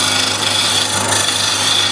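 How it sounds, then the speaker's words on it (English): A skew chisel makes a finishing cut on a piece of very hard timber spinning on a wood lathe, giving a continuous close rasping hiss over the steady hum of the lathe, with no talk. "Again, skew and just finish up this."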